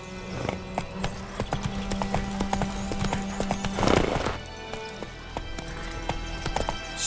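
A horse's hooves clip-clop in a quick, steady rhythm in the video game The Witcher 3 Wild Hunt, with a short breathy snort or whinny midway and a soft background bed underneath.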